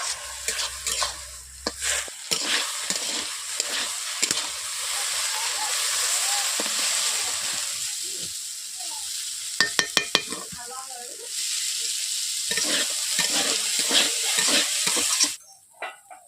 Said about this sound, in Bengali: আলুগুলোকে এইভাবে নাড়িয়ে নিচ্ছি, নেড়ে নিচ্ছি